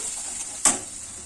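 Watered-down mustard paste hits hot oil with frying aubergine, giving a sudden sharp sizzle burst partway through over a soft, steady background fry.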